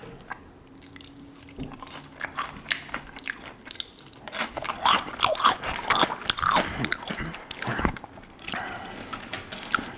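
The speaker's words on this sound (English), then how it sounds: "I was kind of chewing with my mouth open there." Close, wet chewing and crunching of a cheeseburger and fries eaten with the mouth open, with irregular bites and smacks that grow louder and busier partway through, and no talking.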